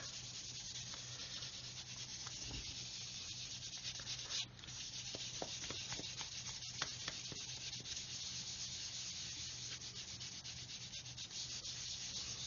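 A sanding sponge is rubbed along a long seam on a 1/144 Revell Apollo Saturn V plastic model, a soft continuous scratchy rubbing heard close up with a few small clicks and no talk.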